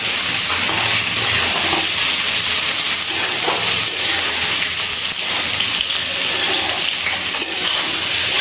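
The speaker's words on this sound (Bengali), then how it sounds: "গ্যাসের ফ্লেমটা হাইতে দিয়ে ইঁচড়টা ভেজে নিচ্ছি।" Young jackfruit pieces deep-frying in hot oil over a high gas flame, a loud, dense, continuous sizzle like heavy rain with no pauses or voices.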